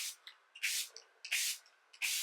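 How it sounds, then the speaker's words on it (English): Three sharp hissing bursts of makeup setting spray come one after another, close and fairly loud, with a rattly shake of the bottle between them and no talking. "So I take a setting spray, shake. I always shake my setting sprays. And then I'll mist."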